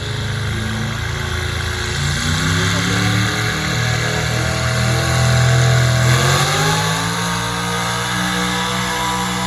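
A monster truck engine of about 540 cubic inches revs at a truck pull, a loud continuous roar whose pitch climbs and falls in steady sweeps, rising again near the end.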